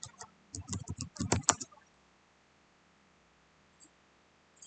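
Someone types a short word on a computer keyboard while working in Blender. A quick cluster of close, light key taps lasts under two seconds, followed by near silence with a faint click or two.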